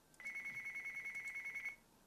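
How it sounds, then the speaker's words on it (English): In the strategy game Supreme Ruler 2020, a telephone rings with a single electronic trill of rapidly pulsing tone that lasts about a second and a half against near silence. "A phone call."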